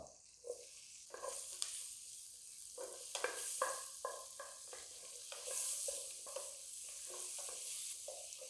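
Sliced onions drop into hot oil spiced with cardamom and cloves for butter chicken, crackling and sizzling softly while a spoon scrapes and stirs in a steady, irregular rhythm nearby.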